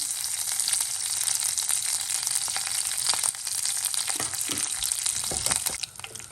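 Curry leaves frying in hot oil for a Kerala-style beef fry, a dense, continuous sizzle and crackle close by, with a few stirring scrapes toward the end.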